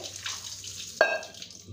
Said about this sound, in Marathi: मी आता त्याच्यावर मस्त थंड पाणी गडवं थंड पाणी टाकून घेते